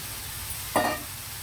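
Mushroom pieces dropped into a pan of curry, giving a single brief sizzling splash against a quiet hiss of cooking.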